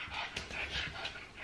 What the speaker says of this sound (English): I thought I could hear something panting.